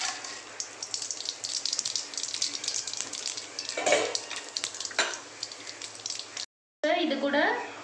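Whole spices such as cinnamon, cloves, fennel and poppy seeds sizzling in hot oil for a goat intestine curry, a steady loud frying hiss with bursts of crackle, briefly cut off before resuming.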